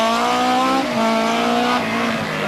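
A BMW M3 E30 Group-A rally car at full throttle on a rally stage, its engine a loud, steady high-pitched howl that dips briefly at gear changes, close and alone.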